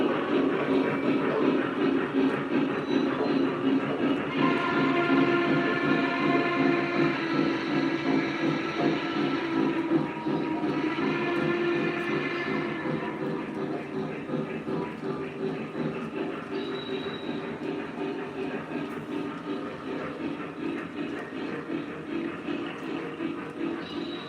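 A Vision Line class A model train locomotive runs with a steady mechanical rumble and hiss that continues throughout, growing slightly quieter toward the end.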